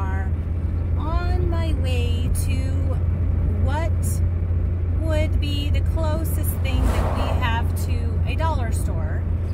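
Steady low engine and road drone heard from inside a moving car, continuous throughout, with a person talking over it the whole time.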